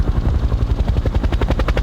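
An anti-drug squad helicopter flies close and loud, its rotor chopping out a rapid, steady, pulsing beat over a low engine drone.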